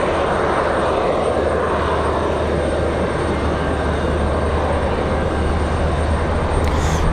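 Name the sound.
Southwest airliner approaching runway 23 right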